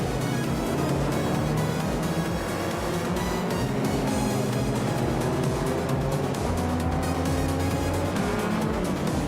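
A 1983 Volvo 242 Turbo races in a video game, its engine droning loudly and continuously through the whole stretch, with other cars and game sounds layered densely over it.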